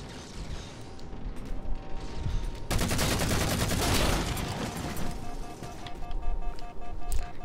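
Rapid automatic gunfire from the video game Halo, a dense burst of shots that starts abruptly and runs for several seconds, then gives way to scattered single shots and mechanical clicks, loud and close with no talk.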